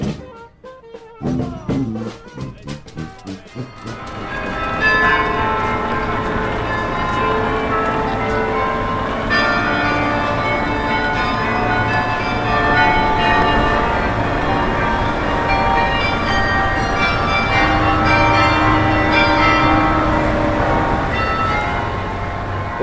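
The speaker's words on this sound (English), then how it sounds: "Well, that was the sound of the bells in Bruges." Carillon bells in Bruges ring out a melodic tune, many overlapping chimes sustaining and layering continuously at steady loudness after a few sharp strikes at the start, with no voices.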